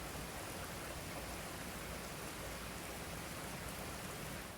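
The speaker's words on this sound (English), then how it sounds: "Then listened to the rain." Steady rain falling outside, a dense, even hiss of drops that holds at the same level throughout with no pauses, no other sounds and no voices.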